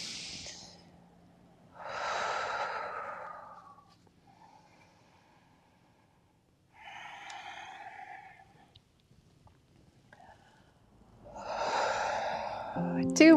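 Breathing during yoga repetitions, a series of audible breaths in and out in a slow rhythm, separated by quiet pauses, fairly close and moderately loud.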